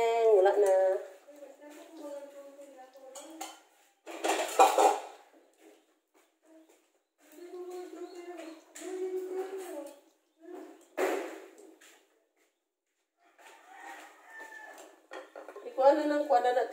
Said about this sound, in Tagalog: Kuwala natin na ng mga plato